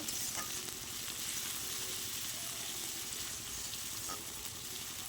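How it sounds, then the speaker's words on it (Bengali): Ginger, garlic and onion frying in oil in a pan, a dense continuous sizzle with faint stirring scrapes underneath, steady and close with no talking. "আদার রসুন পেঁয়াজের সাথে ভালো করে ভেজে নেব"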